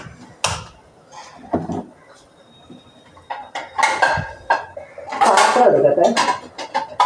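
Plates and dishes clatter in a home kitchen as they are taken out to serve a meal of puttu and payar, with several sharp, close clinks and knocks spread unevenly across the stretch and a denser burst of rattling near the end.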